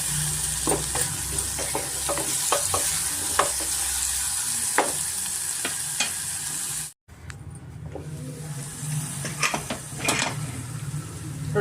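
Chopped medium tomato frying with ginger-garlic in a hot pan, a steady sizzle broken by scraping stirs and clinks of the spoon against metal, with a brief cut to silence midway before the frying resumes.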